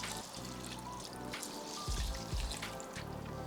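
Broth, about 350 milliliters, poured into a baking dish of rice in a home kitchen, trickling and splashing in a steady stream with a few heavier gushes near the middle, close and moderately quiet.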